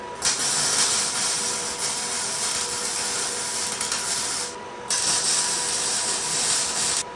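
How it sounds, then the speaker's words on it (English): A motor mount being welded into a Honda CRX with a V8 rear-wheel-drive swap: two loud, close bursts of steady crackling welding hiss separated by a short pause. "I'm gonna weld this in just a little bit better"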